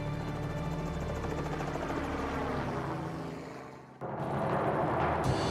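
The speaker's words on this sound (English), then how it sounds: "Joel and Johnny are simulating helicopter engine failure above the Connecticut River Valley" A helicopter drones steadily with a dense rotor and engine roar during a simulated engine failure above the Connecticut River Valley, dipping briefly before surging back louder and rougher.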